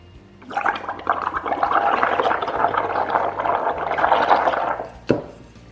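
Breath blown steadily through a tube into a container of liquid ceramic glaze, producing about four seconds of dense, close bubbling and gurgling that stops abruptly, followed by a short clack.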